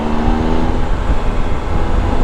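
A 2012 Triumph Tiger Explorer 1200 motorcycle on its stock exhaust pulls hard, the engine note rising and rumbling loudly and close by without a break.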